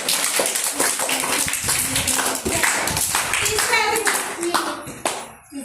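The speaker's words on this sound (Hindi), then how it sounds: "सही, ताली हो जाएगी।" Students in a school classroom clap their hands in a brisk burst of applause, with children's voices and a teacher talking over and around it, and the clapping trailing off at the end.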